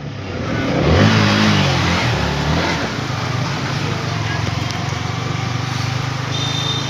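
A motorbike engine revs on a rainy ride around Banepa, a steady close engine drone over broadband road and rain noise that swells near the first second, then holds level to the end.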